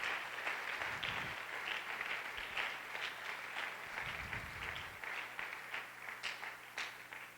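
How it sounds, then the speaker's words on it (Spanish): A church congregation applauds in a sustained, dense round of clapping that stays steady and fairly loud, with some individual claps standing out near the end. "dale un fuerte aplauso al Señor"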